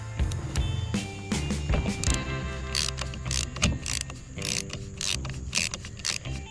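Blade screws are loosened on the cutting disc of a Landroid robot mower. The result is a series of small ratcheting clicks and metallic scrapes, close up and fairly quiet, with no talking.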